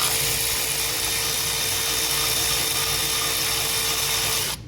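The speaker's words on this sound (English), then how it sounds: "you'll be using a power ratchet because, well, quite frankly, I can't stand to sit here and undo every one of these" A power ratchet whirs continuously while removing head bolts on a 2010 Ram 3500, a close, steady mechanical buzz lasting the whole clip with no voices.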